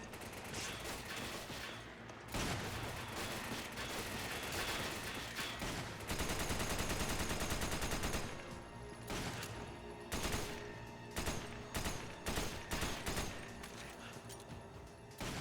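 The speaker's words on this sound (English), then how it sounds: "shooting him through the grate in the floor" Resident Evil 5 firefight with loud, rapid gunfire. Automatic bursts and single shots crack in quick clusters, then break into separate sharp reports toward the end.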